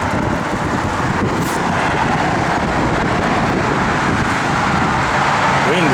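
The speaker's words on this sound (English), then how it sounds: "Wind is whipping here." Strong outdoor wind buffets the microphone beside a 1972 Dodge Dart Swinger, a dense, constant low roar of gusts that fills the whole stretch without pause and with no speech.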